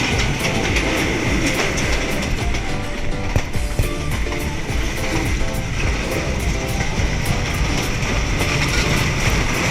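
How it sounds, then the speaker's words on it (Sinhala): A train travelling from Colombo Fort toward Hatton runs loudly and continuously on its rails, with a dense rumble and a steady clickety-clack of wheels over the track joints throughout, and no voices. "කොටුවේ ට්‍රේන් එක නැගලා අපි යන්න ඉන්නේ හැටන් වලට"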